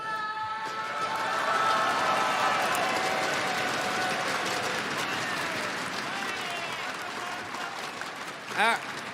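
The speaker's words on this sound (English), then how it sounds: "So you can applaud yourself for that, for sure." A large crowd applauds and cheers steadily at a Counter-Strike esports tournament grand final in Espoo, with a dense sustained roar of clapping filling the whole stretch.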